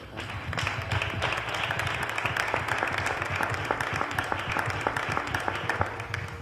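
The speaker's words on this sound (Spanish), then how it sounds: "mi primer aplauso es para vosotros, para el Real Club Mediterráneo" Audience applause for a Spanish sailing club, the Real Club Mediterráneo, at a sports talk event: steady, moderately quiet clapping from a crowd, continuous and even, with a low hum underneath.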